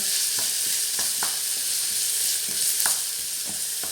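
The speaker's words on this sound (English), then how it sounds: "Give it a couple of minutes of stir fry." Aloo saag stir-frying in a pan on an electric stove at medium heat: a steady, close sizzle with a hiss, broken by regular scraping and tapping strokes from the stirring utensil.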